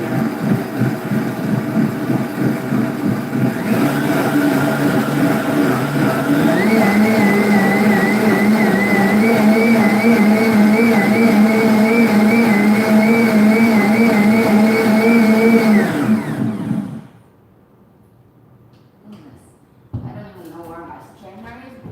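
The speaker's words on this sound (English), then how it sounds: "My blender, I have a Blendtec, it has a cover on it, so it's a little muted." A covered Blendtec blender whirs loudly and steadily while blending melon seeds into milk, its pitch rising as it speeds up, then cutting off abruptly; a person's voice follows.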